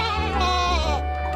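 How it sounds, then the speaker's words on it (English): A goat bleats in one sustained, wavering call, loud and close with no other sound around it. "goat"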